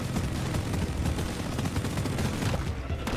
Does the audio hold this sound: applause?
no